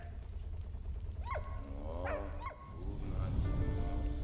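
Dog barking in the video game Valiant Hearts: The Great War, a few faint, short, rising yips and barks over a low rumbling backdrop.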